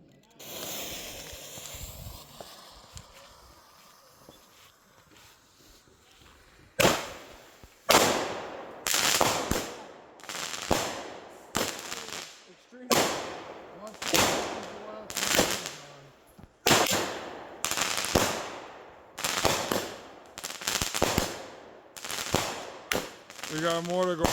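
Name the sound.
machine gun shell fireworks exploding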